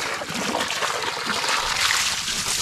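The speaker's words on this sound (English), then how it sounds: "Got water pouring in from down there" Water from a siphon draining a flooded yard pours and splashes steadily, a continuous close rushing spatter with no talk.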